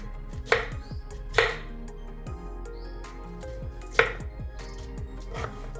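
A knife chops raw mango and mint on a cutting board in several sharp, spaced strikes, close and fairly quiet.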